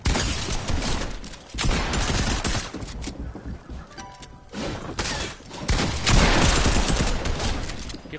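Rapid video game gunfire, dense bursts of loud shots rattling almost continuously with a short lull in the middle before the firing resumes at full intensity.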